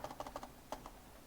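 Short bursts of computer keyboard typing while entering accounting data, several quick close keystrokes followed by a pause and two firmer presses like the enter key.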